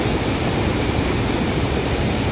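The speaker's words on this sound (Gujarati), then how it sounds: "દોસ્તો, તમે જોઈ શકો છો ઘોડાપુર નદી ચાલી રહી છે" Floodwater of the Banas river rushing over a check dam at Amirgadh, a loud, steady broadband roar with no breaks, close and continuous, no voices.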